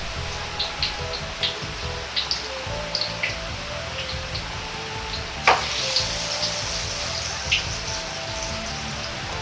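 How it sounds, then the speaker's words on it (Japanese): Nuggets of frozen tofu soy meat deep-frying in plenty of oil give a steady sizzle with small popping crackles scattered through it. One sharper pop comes partway through, at close range. "3分くらい揚げるとこんがりとした色になってくるので引き上げていきます"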